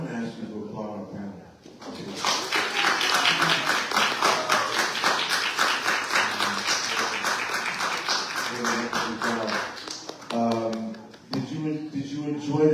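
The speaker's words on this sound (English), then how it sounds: "I'm going to ask you to applaud our panel." Audience applause for a panel at a town hall on policing, a sustained wash of many hands clapping for about eight seconds, with talk before and after.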